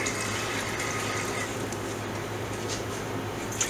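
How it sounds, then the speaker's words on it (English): Tap water steadily pouring into a cooking pot for peanut brittle in a home kitchen, a continuous close rushing splash lasting several seconds without a break. "in our pot, we are going to put 1 cup of water"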